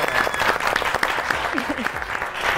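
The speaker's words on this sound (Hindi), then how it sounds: "बहुत सी तालियां" A studio audience on an Eid special variety show applauds loudly and steadily, with crowd clapping filling the whole stretch while a voice speaks over it.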